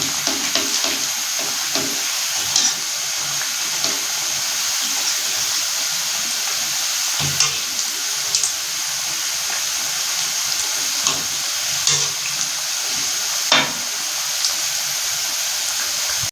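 Donuts frying in hot oil, giving a steady, continuous sizzle and hiss with occasional sharper pops and crackles, close and alone with no talking.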